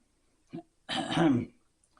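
A single short cough preceded by a small throat sound, close and fairly loud, then silence.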